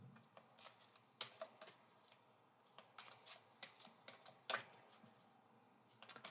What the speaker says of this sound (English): So I'm going to shuffle first, shuffling first